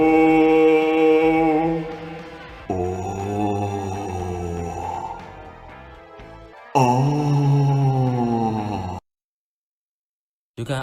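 An angel's voice from the SMT: Devil Survivor video game: a synthetic, choir-like tone in three sustained, wavering sections with shifting pitch, then a brief silence and a short return at the end.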